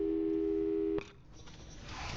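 Telephone tone in the video game Portal 2, a steady electronic tone held for about a second that cuts off abruptly, followed by a quiet, faint hiss.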